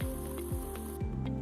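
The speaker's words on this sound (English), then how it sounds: "Any fabric office chairs can be disinfected with upholstery antibacterial spray." Antibacterial upholstery spray hisses in short bursts onto a fabric office chair, three quick spritzes about half a second apart, close and fairly clear with a faint tonal hum behind.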